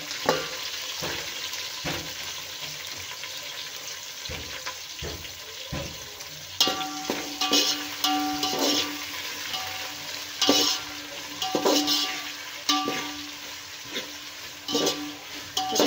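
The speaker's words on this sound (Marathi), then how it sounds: "सर्व आता आपल्याला तेलामध्ये छान लाल होईपर्यंत भाजून घ्यायचं आहे।" Onion, green chillies and potato frying in oil give a steady close sizzle, broken by stirring clatters and scrapes in the pan, with no talk.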